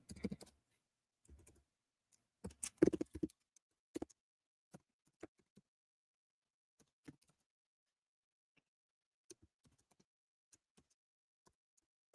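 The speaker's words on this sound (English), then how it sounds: "I don't want anybody to see what I'm typing" Keystrokes tap on a computer keyboard in scattered bursts, with a quick flurry early on and then isolated clicks spaced out over several seconds, all fairly quiet in an otherwise silent room.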